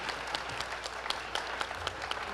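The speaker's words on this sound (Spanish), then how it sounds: "un aplauso." Brief audience applause at a river-themed panel discussion, a modest crowd clapping with distinct individual claps standing out, close and fairly steady for a couple of seconds.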